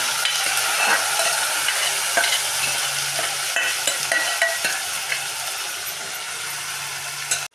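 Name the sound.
cooked mutton being added to the pan and frying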